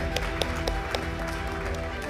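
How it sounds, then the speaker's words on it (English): An audience at a leadership panel event applauds as a panelist receives a souvenir: a steady wash of many hands clapping at once, with a few sharper claps standing out. "Let's keep the claps coming"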